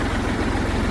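Tractor engine idling steadily at close range, a continuous low throbbing rumble with no talk over it.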